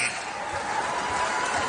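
Crowd of 17,000 in a basketball arena at a Big Ten game between Indiana and Iowa, a continuous broad roar of cheering for the starters late in the game, steady and dense with no single voices standing out.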